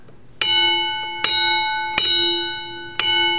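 A restored WRRS mini bell, an electric signal bell, strikes four loud, bright rings with long ringing overtones, each tone decaying before the next strike at uneven intervals.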